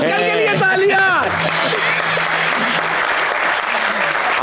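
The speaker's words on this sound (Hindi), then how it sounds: "अरे अंकल के लिए तालियां" Loud studio audience applause on a Pakistani comedy talk show erupts after a brief burst of a speaking voice, then holds as a steady, dense clapping wash with some crowd noise throughout.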